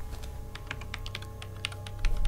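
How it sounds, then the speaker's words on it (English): Rapid computer keyboard typing in the video game Happy's Humble Burger Farm, a quick irregular run of soft clicks, fairly close and quiet, with no voices over it. "Who is typing?"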